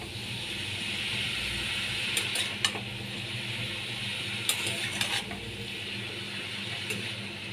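Chal kumro (ash gourd) is stirred with salt and turmeric in a pan, a soft steady sizzle with scattered utensil clicks and scrapes against the pan.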